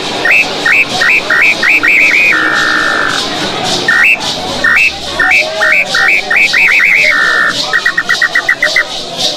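A high, pure whistle imitating a tinamou's call repeats in quick chirping bursts and short trills, broken by a couple of longer held tones, loud and close.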